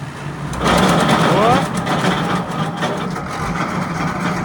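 An MTZ-80 tractor engine revving under throttle, a steady loud droning rumble that rises briefly in pitch early on, with people talking over it.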